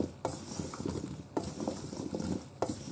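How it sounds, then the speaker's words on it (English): Chopped potatoes being stirred together with onions in a bowl: soft repeated scraping and clattering strokes of a utensil, with three sharper clicks against the bowl, close and fairly quiet. "I'm going to give it a final mix now with the onions and everything"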